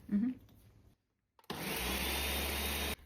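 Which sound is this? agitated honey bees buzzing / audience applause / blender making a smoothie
blender making a smoothie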